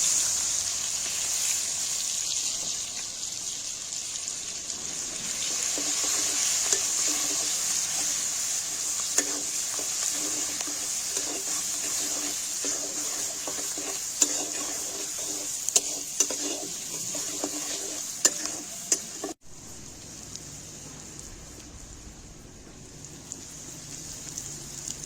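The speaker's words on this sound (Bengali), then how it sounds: "এই তেলের ভিতরে দিয়ে দিব পেঁয়াজ কুচি" Chopped onions sizzle steadily in hot oil for a dish of egg bhuna with nool parotta, a constant close frying hiss with occasional stirring clicks, cutting off sharply near the end to quieter background.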